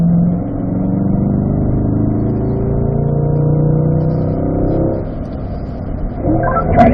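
Car accelerating out of a turn on a race track, the engine's steady droning tone building and holding, then easing briefly before picking up again near the end.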